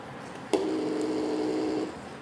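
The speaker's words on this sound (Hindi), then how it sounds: "वाइब्रेटर ये है कि आप लोग यहाँ पर वाइब्रेशन चेक कर सकते हो" A fake Dzo9 smartwatch vibration motor buzzes once, close and steady, for just over a second after a sharp click, set against quiet room tone with no talking.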